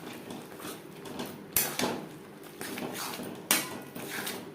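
Mutton fat dropped into spices in a pan for potato curry, giving a few soft clattering utensil scrapes and brief bursts of sizzle against a steady low background, with no talking.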